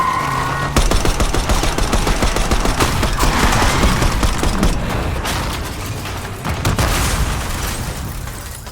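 Dense gunfire in the Black Ops 6 video game: continuous loud automatic bursts and booms with no pauses, a heavy rattling barrage throughout.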